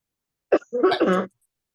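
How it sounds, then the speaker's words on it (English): A single throat-clearing cough followed by a short rough vocal rasp, close and isolated against silence. "That maybe that was just a cough."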